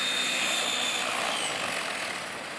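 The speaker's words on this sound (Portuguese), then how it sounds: "Aproximando para o pouso," A light aircraft drones steadily on approach to landing, a loud continuous broadband engine and wind roar with no talk.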